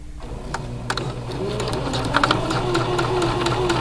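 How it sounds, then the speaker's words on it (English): A sewing machine runs steadily and close, its rapid mechanical whir backstitching elastic into a boxer waistband. The motor speeds up slightly near the end, and nobody speaks. "So I'm going to start a bit before. I'm going to backstitch."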